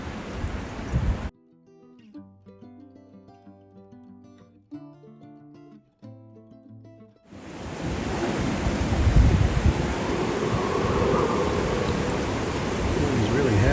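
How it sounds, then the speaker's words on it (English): Steady light rain falls on a catamaran during a cyclone, a broad continuous hiss with wind noise that starts, cuts out to a quiet gap with tonal sounds, then returns louder and sustained. "Rain has been reasonably light but steady for a couple of hours."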